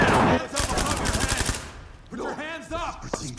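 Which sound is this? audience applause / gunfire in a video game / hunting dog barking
gunfire in a video game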